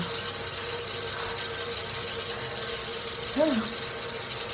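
Water runs in a steady, even hiss throughout a hair-washing session, close and constant, with a faint brief vocal squeak near the end.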